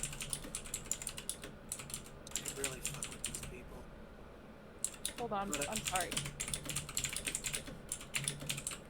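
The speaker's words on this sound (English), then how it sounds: "You got that mechanical keyboard going," Rapid clacking of a mechanical keyboard in steady bursts, close and clear, with a person talking briefly between the typing.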